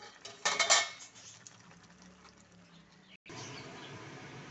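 Boiled chopped cabbage is tipped out of a cooking pot, opening with a short bright clatter of metal, then a soft wet rushing pour that fades before a fresh burst of splashing water near the end.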